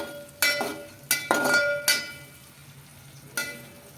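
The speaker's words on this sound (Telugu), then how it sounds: "ఒక 2 minutes ఇలా వేయించుకోవాలి." Ingredients for upma fry in a pan while being stirred, a low sizzle broken by a few distinct scraping and clinking strokes of a utensil against the pan, close and fairly quiet.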